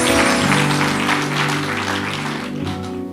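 Audience at a French-language Christian sermon applauding and cheering loudly together, a steady dense wash of clapping over sustained music that fades slightly toward the end.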